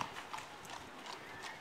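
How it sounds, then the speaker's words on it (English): Hooves clip-clop at a steady walking rhythm on the street below a rooftop in Bruges, distant and fairly faint against open outdoor ambience. "There's a horse down there."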